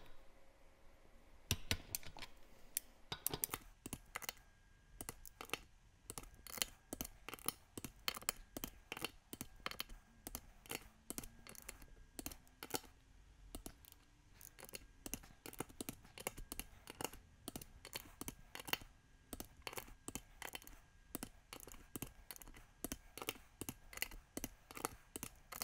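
A torque wrench set to 10 foot-pounds clicks while tightening the wheels of a 2023 Polaris Ranger 1000XP UTV on Tusk beadlock rims. A quick, busy series of small, faint clicks repeats close by, with no voices.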